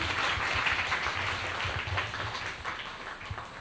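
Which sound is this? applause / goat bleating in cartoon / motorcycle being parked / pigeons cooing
applause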